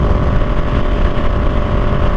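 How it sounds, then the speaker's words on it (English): A motorcycle engine braking down from 60 mph on a road, a continuous loud engine drone with wind rush, steady throughout with no talking. "I have to try to get this bike to engine brake from 60 miles an hour"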